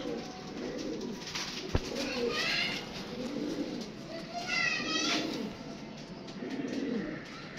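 A pair of pigeons coo softly in repeated rolling phrases, close by. Murmuring voices and a faint background chatter run underneath.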